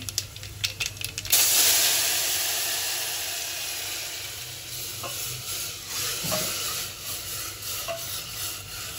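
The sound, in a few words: spice tempering sizzling in oil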